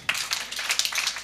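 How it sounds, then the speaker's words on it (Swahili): A church congregation at a deliverance service claps together, a brisk burst of scattered, overlapping handclaps at moderate distance with no talking. "Mpigieni Yesu makofi."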